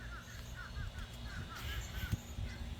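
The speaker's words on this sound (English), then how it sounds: "Look at the birds. What are they saying?" Crows cawing near a fig tree outdoors, a series of short harsh calls repeating at intervals over low background noise, moderately close.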